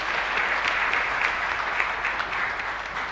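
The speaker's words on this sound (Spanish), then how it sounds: "Y fuerte aplauso para todos ustedes." Steady, dense applause from a church congregation at Mass, sustained throughout without pause.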